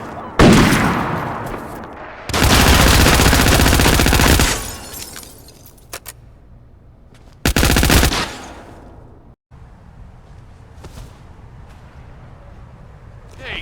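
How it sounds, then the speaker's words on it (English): Gunfire in the Hitman video game, set in Paris, rips out in two loud sustained automatic bursts separated by quieter stretches, with brief distant shots and background noise between them. "Got gunshots."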